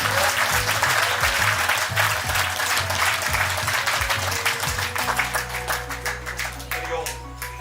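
Audience applause at a Yoga Day presentation, loud continuous clapping from a crowd that carries on for several seconds and then gradually thins, with a steady hum underneath.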